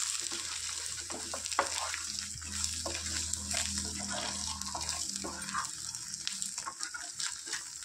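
Halved boiled eggs fry in a pan with chili powder and masala, giving a continuous low sizzle with a few scattered clicks and scrapes, close and fairly quiet.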